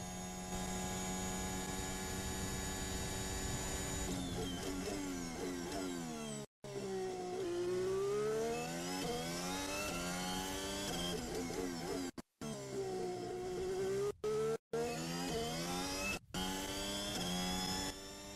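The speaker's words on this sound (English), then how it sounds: "That Renault engine sounds so weird." A Formula 1 car with a Renault engine racing at the 2021 Azerbaijan Grand Prix in Baku, a loud sustained high-pitched engine whine rising and falling through gear changes, broken by a few brief dropouts, with no talk over it.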